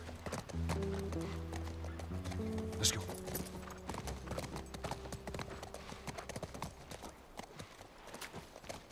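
Horse hooves clip-clop steadily through The Last of Us game audio, with a brief whinny, mixed under a sustained musical score and ambient game sound.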